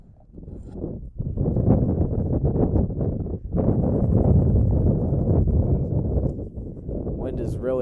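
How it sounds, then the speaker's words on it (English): Wind gusts across an outdoor lacrosse field during a girls' high school game, a loud, steady low rumble buffeting the microphone for nearly the whole stretch with a brief lull early on. "Wind is really blowing out here today."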